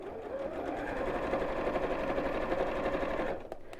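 Sewing machine top stitching a bowling bag, a steady close rhythmic whirring of fast stitches running continuously for over three seconds before stopping abruptly, followed by a faint click.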